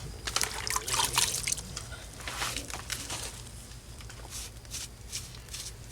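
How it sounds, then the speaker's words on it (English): A wet sponge is wrung out over a bucket of water, sending close splashes and trickles with a few louder bursts early on, then softer dribbling. "we'll get a sponge with a bucket of water. Right? Wring it out."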